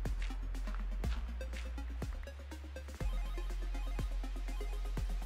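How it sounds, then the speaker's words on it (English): A phone rings repeatedly with incoming notifications, a sharp tone striking about once per second in an even rhythm, close and fairly loud over a low steady background hum. "That's my phone blowing up."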